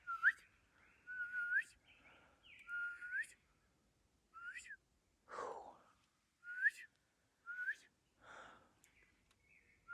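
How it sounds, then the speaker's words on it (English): Birds whistle and call in short, clear phrases against a quiet background, their sharp notes repeating at irregular intervals. "all I hear is birds"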